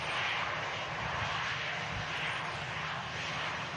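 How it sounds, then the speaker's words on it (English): An Emirates Airbus A350 passes at Manchester Airport, its engines making a steady, loud, broadband roar that holds evenly for a few seconds with no voices over it. "Here we go. Emirates Airbus A350."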